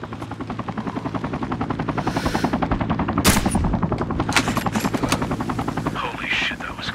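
A single sharp, loud gunshot cracks out midway through a Sniper Ghost Warrior 3 video game scene. It rises over a steady, fast, pulsing rotor-like chop that runs throughout, with a few fainter bangs following.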